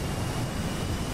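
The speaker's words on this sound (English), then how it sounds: "But that F-14 sound." F-14 jet in the DCS flight simulator, a steady broadband engine roar with heavy low rumble, constant and loud without pause or voices.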